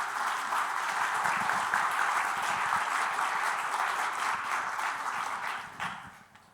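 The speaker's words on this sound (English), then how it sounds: "please, another round of applause as we welcome Keiichiro Hirano" An audience applauds steadily as the novelist Keiichiro Hirano returns to the stage at a talk on selfhood, a dense wash of clapping that holds for several seconds, then thins and fades out toward the end.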